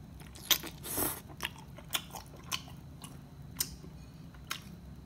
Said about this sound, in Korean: 원래 쩝쩝거리면서 먹으면 안 되는데